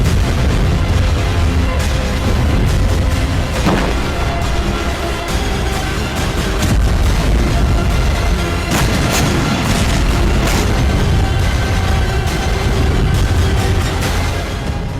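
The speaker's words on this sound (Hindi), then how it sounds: "आत्मघाती ड्रोन के जरिए बेहद विध्वंसक और विस्फोटक अंदाज में।" Explosions from Ukrainian suicide drone attacks on the Crimea front in the Russia-Ukraine war: a dense, continuous barrage of deep booms and sharp bursts, loud and sustained, with heavy low rumble throughout.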